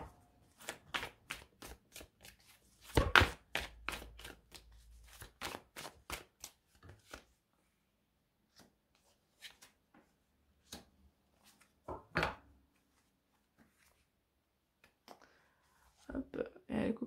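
Rapid, dense riffling and flicking of tarot cards being shuffled and then cut, close and crisp, in quick bursts that thin into scattered taps and slaps as cards are laid down during a sign reading.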